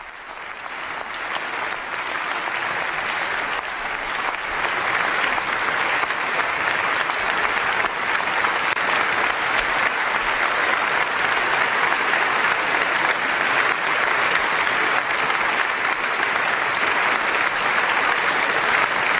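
The German parliament, the Bundestag, stands and applauds after Pope Benedict XVI's address, a dense, sustained wall of clapping from a large hall that swells early and holds steady and loud throughout.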